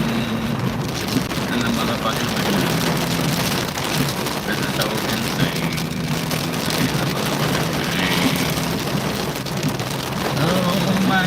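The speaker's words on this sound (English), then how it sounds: "I'm not happy about being in the motherfucking rain." Steady rain falls outdoors, a dense continuous hiss of drops on surfaces at close range, with a faint low rumble underneath and no clear break throughout.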